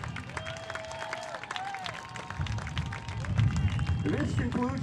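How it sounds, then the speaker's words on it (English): An outdoor crowd at a high school football homecoming applauds and cheers, a broad rustling wash that swells louder toward the end, mixed with scattered voices and murmuring. "Let's give a huge round of applause to our young men"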